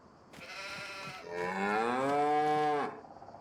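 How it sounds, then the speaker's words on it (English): Cattle in the Farming Simulator video game lowing twice, a short moo followed by a longer, rising and sustained one with a reverberant, barn-like echo, loud and close with no talk over it. "regardless of where cattle are on any map, they all sound that they echo like they're in a barn"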